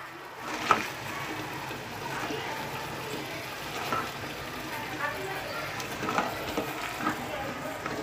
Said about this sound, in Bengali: ভালো করে মশলাগুলো মাখিয়ে নিব।